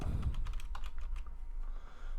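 Quick typing on a computer keyboard, a run of close, crisp key clicks in an uneven rhythm over a low background hum, with no voices.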